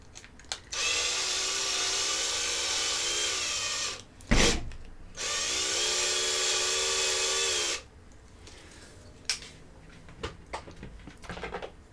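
A power drill whirs in two sustained bursts, each several seconds long, with a sharp clunk between them and light handling clatter afterward.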